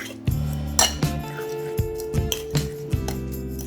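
Spoon clinking against a bowl while stirring potatoes, eggs, green chilli and salt, a series of sharp, close knocks and scrapes at an uneven rhythm.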